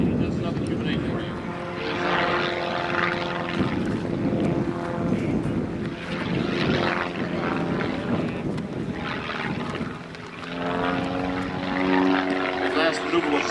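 Propeller aerobatic airplane flying a Cuban 8 at an air show, its engine droning and shifting pitch steadily throughout, moderately distant, with a commentator talking over it.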